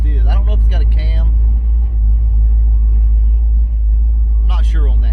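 A Ford Fox car idles at roughly 900 to 1,000 RPM, a steady low rumble running throughout while someone talks over it near the start and again at the end.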